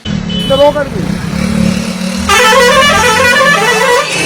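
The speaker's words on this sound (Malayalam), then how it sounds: "ആ എയർ ഹോണിന്റെ ശബ്ദം എഡിറ്റ് ചെയ്ത് ചേർത്തതാണെന്ന്" A loud, sustained air horn blares over traffic noise, with its tone shifting partway through before holding steady to the end; a voice is heard early on.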